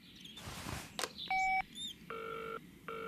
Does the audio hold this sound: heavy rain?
no